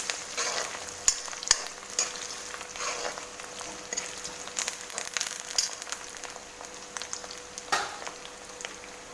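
Thin poha chivda mixture frying in oil while being stirred, a soft sizzle broken by scraping stirring strokes and light clinks, fairly quiet and close, with no voices.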